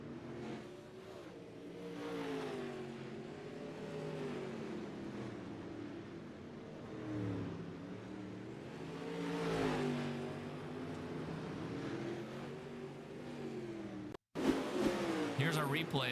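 Pro dirt late model race cars at a season-ending Midwest Racing League race, engines droning and rising and falling in pitch as they circle the track, running continuously under a commentator's talk.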